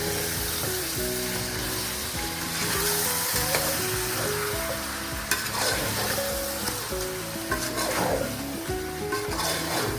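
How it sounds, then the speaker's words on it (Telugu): Chicken pieces frying in a pan with yogurt and spices for chicken pulao, giving a steady, close sizzle with occasional stirring scrapes, under continuous background music and no talk. "చికెన్ ఫ్రై అవుతుందండి. ఇప్పుడు దీంట్లో కొంచెం పెరుగు కూడా వేసాను."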